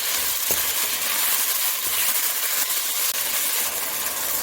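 Beef spread across a hot wok for a beef and broccoli stir-fry, browning with a steady, loud hiss of sizzling fat and a few faint clicks of utensils, no talking.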